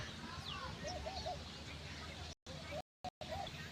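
A bird perched on a rooftop parapet coos softly a few times in the distance over an outdoor background of low murmur and hum.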